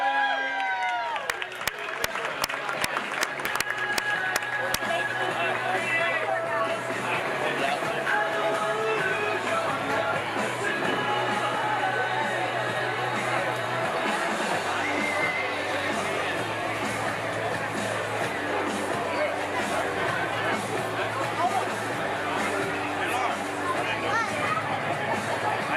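A crowd cheers, claps and chatters for the boat Gray Fox at the Beach Haven White Marlin Invitational, a loud sustained roar of voices and applause that holds steady with an announcer's voice over it.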